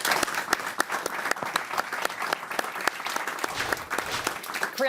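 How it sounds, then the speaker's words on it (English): A crowd at the A-Leagues' Dolan Warren Awards night claps for an award winner: a dense, steady round of many hands, moderately loud and continuous throughout, with no voices over it. "round of applause please for our winner."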